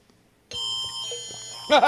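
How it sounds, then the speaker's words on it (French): An electronic alarm suddenly sounds after a moment of quiet, holding a steady, shrill, buzzing tone, with a voice briefly cutting in at the end. "Oh non, pas cette alarme-là."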